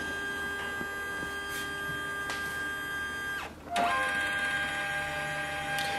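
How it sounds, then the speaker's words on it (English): A Brother printer runs a scan, giving a steady electronic hum with faint whirring tones, then a brief mechanical sweep midway before the motor settles into a new, slightly louder whine. "So it has started the scanning."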